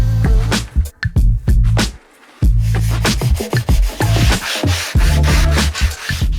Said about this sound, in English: I insert a rounding bit and carefully run it over each sawn edge once more.